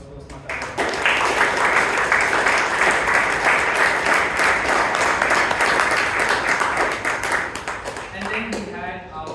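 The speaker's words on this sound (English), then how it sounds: "Round of applause for Toastmasters." Sustained applause from an audience at a Toastmasters club meeting in Bangalore, steady and fairly loud for several seconds before fading slightly.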